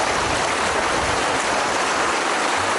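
Rushing river rapids in Latvia where fish are being released, a dense, steady broadband roar of churning water, close and continuous with no pauses and no voices.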